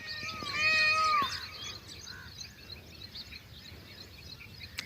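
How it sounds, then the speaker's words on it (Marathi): A peacock gives a loud, high, wailing call in the morning near a village, followed by quieter bird chirps over a faint outdoor background. "मोरांची केकावली"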